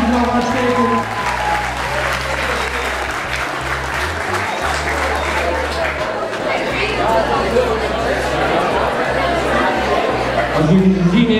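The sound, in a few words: school audience applause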